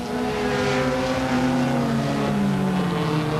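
Volkswagen and big four-cylinder Ford race cars run on an oval track at Bryar Motorsports Park in 1985, a continuous engine drone with rising and falling pitch as cars pass at moderate distance.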